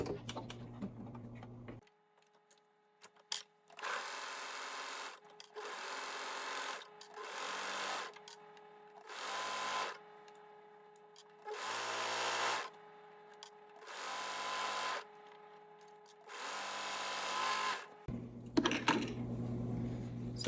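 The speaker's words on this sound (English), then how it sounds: "So now I have this whole edge serged." A serger stitches along the edge of a balaclava hood piece in bursts, its fast mechanical whirr starting and stopping about seven times, close by, with a faint hum between runs.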